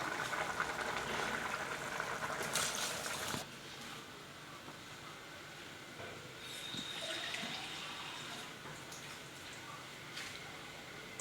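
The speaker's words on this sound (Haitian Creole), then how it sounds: "on va l'ajouter de l'eau là-dedans" Water pours into a cooking pot of white bean sauce set over a gas flame, giving a soft, steady splash and trickle at low volume that eases off partway through, then continues faintly with small drips.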